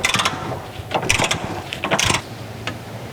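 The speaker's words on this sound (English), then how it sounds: "You can see as I'm lowering this jack under here" A jack being lowered under the rear suspension of a Dodge Charger police car during shock and spring work: a close, steady run of mechanical ratcheting clicks and metal creaks.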